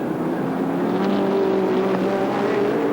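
Race cars at the 1976 Australian Sports Sedan Championship at Sandown, including a Camaro, a steady loud engine drone with a rising tonal whine as a car holds speed, no talk.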